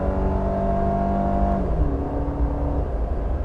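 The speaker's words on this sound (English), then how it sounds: "Let's see how long it takes me to get to 120. Foot to the floor." A 2022 Nissan Xterra accelerating at full throttle from 100 to 120, its engine droning loud and steady from inside the cabin with a slowly climbing whine and a gear change partway through.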